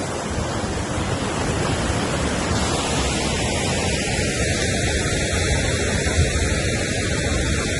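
A waterfall at Southford Falls State Park rushes over rocks nearby, a loud, unbroken roar of falling water with no pauses and no voices.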